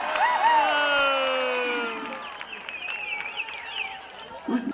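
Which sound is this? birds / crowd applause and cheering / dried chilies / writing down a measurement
crowd applause and cheering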